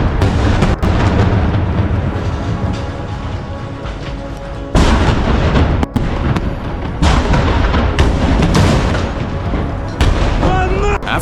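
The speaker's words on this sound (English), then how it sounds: "The rockets strike the windows of the building occupied by the enemy." Rockets launched in combat in the war in Ukraine, striking the windows of an enemy-held building: loud, dense booms and crackling blasts in rapid succession, near and harsh, with brief voices.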